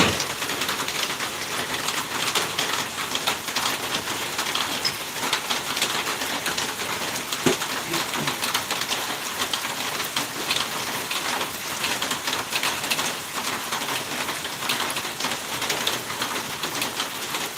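Steady rain falls outdoors around trees, a dense even patter of drops on surfaces that continues for the whole stretch with no voices.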